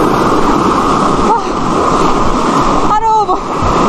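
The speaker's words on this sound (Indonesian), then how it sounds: "jadi cukup ekstrim ini dengan arus sungai yang deras" A strong, fast-flowing river current at Ulu Ogan roars loudly and steadily, with brief voice sounds rising over the rush.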